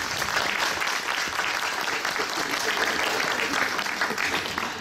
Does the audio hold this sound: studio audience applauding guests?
yes